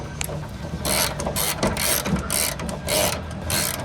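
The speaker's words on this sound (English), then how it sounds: "get your 3/8 drive ratchet with the T50 torque socket" A 3/8 drive ratchet with a T50 Torx socket tightens a bolt on a Jeep Wrangler JK door hinge, producing close, loud, rapid ratcheting clicks in repeated short strokes.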